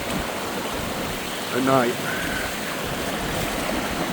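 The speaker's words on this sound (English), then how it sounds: "The river is currently rising" A rising river rushes in a steady broadband wash throughout, with a voice speaking briefly near the middle over the flowing water.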